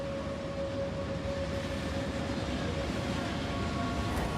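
In Factorio, a train rolls along with a steady rumbling drone and faint tonal whine, even and continuous for a few seconds at moderate loudness with no other clear events.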